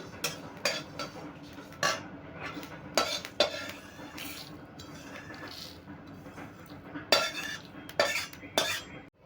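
A small batch of fried mustard seeds for a shukto spice mix is taken off the heat and tipped from a kadai into a bowl: repeated metallic clinks, scrapes and sharp knocks of utensils, close and moderately loud.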